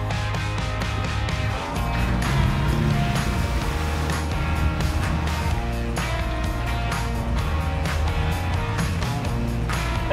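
A Jeep Wrangler with a snorkel in four-high pushes through deep water up to the hood, its engine droning steadily under continuous splashing and rushing water for about ten seconds.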